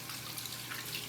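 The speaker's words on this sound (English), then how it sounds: "what you want to do is just rinse your soap that you used" Tap water running steadily into a sink while soap used for washing makeup brushes is rinsed, a brief close, continuous hiss of flowing water.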